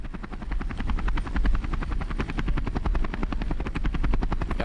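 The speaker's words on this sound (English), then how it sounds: "So, should I manually move the helicopter?" Helicopter in the Call To Arms Vietnam mod game, set during the 1968 Tet Offensive attack on the US Embassy: a loud, steady rotor chop with fast rhythmic blade thumps and engine whine running throughout, alone without talk.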